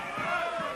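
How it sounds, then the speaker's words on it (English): Old-school televised wrestling crowd roaring in a dense, continuous wash of cheering and shouting, with a voice talking over it throughout this short moment. "the crowd going wild here"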